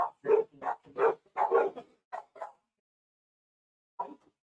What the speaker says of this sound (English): There's a rabbit outside our window, and Sophie's losing her shit